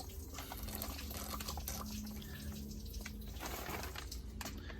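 Water draining out of a disposable shower bag, a faint trickling and dripping under a steady background hiss, continuous and low.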